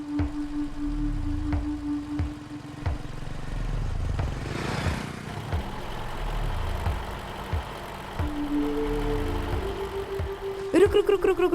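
A car with a troubled engine idles in a steady low rumble throughout, a continuous throb under faint tones, with a brief sweeping burst near the middle and a clattering flurry at the end.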